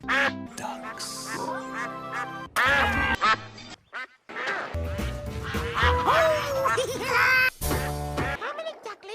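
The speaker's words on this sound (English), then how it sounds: "Ducks." Ducks quack loudly and close, in rapid bursts of nasal calls with short gaps between them, several birds overlapping at times.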